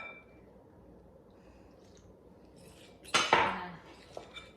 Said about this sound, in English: Mix it with a fork here.